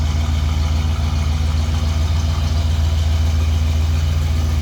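A 1970 Pontiac Catalina convertible's 400 V8 idles through true dual exhaust, a steady, loud, deep rumble with an even low pulse holding throughout, close by and with no voices.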